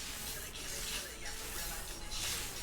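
Spray paint can hissing out paint in steady bursts close by, a soft continuous spray with slight pulses and no talk over it.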